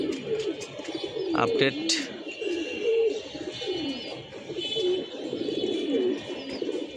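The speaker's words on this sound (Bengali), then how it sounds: "এই হচ্ছে বর্তমান আমার বাচ্চা কবুতরের" Flocks of pigeons at a loft, including young birds, coo continuously in low rolling, overlapping calls, close and fairly loud, with a few brief sharp knocks and a short spoken word over them.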